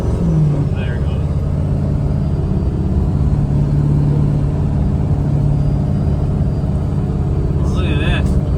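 A rebuilt 6.4L engine in a truck revs up to about 3,000 RPM during break-in, a loud, close, sustained rumble with a rising engine note and brief overlapping sounds near the end.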